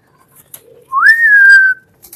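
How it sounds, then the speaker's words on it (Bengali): A person whistles a single rising then steady tone, close and loud, to call trained pigeons to feeding, with a few faint clicks before and after. "এটা হলো গিয়ে ওদের শীষ দিয়ে ট্রেনিং করার একটা সিস্টেম, যাতে হলো গিয়ে ওরা শীষ দিলে বুঝে যে ওদেরকে এখন খাবার দেওয়া হবে।"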